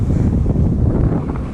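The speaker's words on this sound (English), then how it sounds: "Very windy day." Strong wind buffets the microphone with a heavy, continuous low roar and rumble, no voices.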